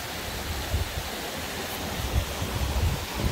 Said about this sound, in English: that's a slightly better shot of the waterfall